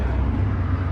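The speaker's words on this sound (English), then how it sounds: "I'm sorry about the noise of the traffic." Road traffic rumbles past at a steady low drone for a brief moment, loud and continuous, with no voices over it.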